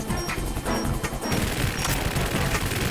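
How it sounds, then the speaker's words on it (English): Heavy automatic gunfire and crashing blasts from Metal Gear Solid 2, loud and dense throughout, with rapid bursts over booming impacts and no talk. "Machine gun sounds, the explosion sounds."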